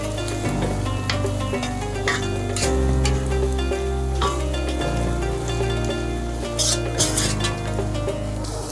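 Chopped onions sizzle loudly in hot oil in a pan for Palestinian musakhan, a close, continuous crackling hiss with faint stirring clinks and a low hum underneath, no talk.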